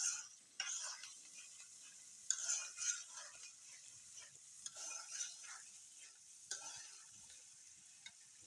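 Spices for duck curry are fried and stirred in a pan, with faint sizzling and repeated scraping strokes and light clinks of a utensil against metal.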